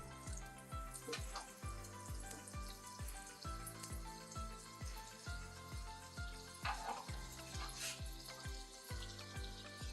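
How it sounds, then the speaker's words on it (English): Spam slices frying in a heated pan, a faint continuous sizzle with a regular series of soft stirring or scraping taps running through it, no speech. "I'm going to heat up a stove and a pan, and we're going to fry these down"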